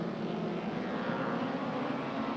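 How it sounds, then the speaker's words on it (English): Midget racing car with a 1350cc Scorpion-powered BMC A-Series Mini Cooper engine, running at a 1984 Northampton race meeting, a steady buzzing engine drone holding a constant pitch at moderate distance. "Scorpion-powered BMC A-Series, that's the Mini Cooper engine"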